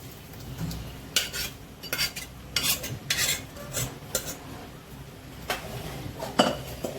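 A spoon stirs dal makhani lentils in a pot, making a series of scraping, clinking strokes against the metal at an irregular rhythm. A soft sizzle sits underneath, and no one speaks.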